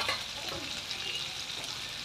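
Fried potato pieces tossed and stirred in a spice masala in hot oil, a soft continuous sizzle with light scraping, close and fairly quiet.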